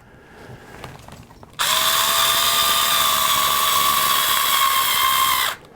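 A Black & Decker cordless drill driving screws whirs loudly and steadily for about four seconds after a quiet start, then cuts off abruptly; no talking.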